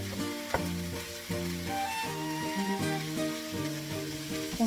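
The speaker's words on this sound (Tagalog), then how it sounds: "Ayan, igisa lang natin." Meat sautés in a hot pan with a close, steady sizzle and occasional stirring. Music plays underneath.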